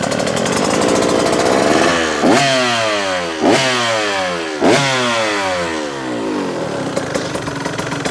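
A 2025 GasGas MC125 fuel-injected two-stroke dirt bike engine with a cone pipe and silencer revs hard three times in a row, each blip rising sharply then falling back to a buzzy idle, loud and close.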